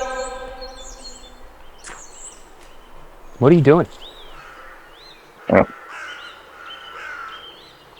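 Crows caw outdoors, with two loud harsh calls standing out among fainter bird chirps and calls, and people talk briefly in between.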